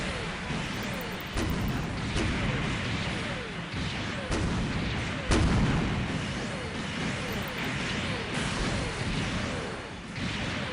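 Gunfire in the SD Gundam Capsule Fighter Online video game, repeated sharp blasts and booms at irregular intervals over a dense whooshing battle din, loud throughout with no clear speech.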